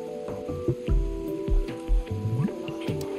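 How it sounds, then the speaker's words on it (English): In the video game Stray, trash falls with soft squishy thuds and wet drips landing every half second or so, set against a steady ambient hum, moderately loud and alone without talk. "The soothing sound of trash falling, shimmering waterfalls, no dangers."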